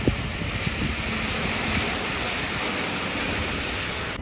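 Steady rain falling outdoors during a street protest march, a dense, even hiss that holds at the same level from start to finish, with no voices breaking through.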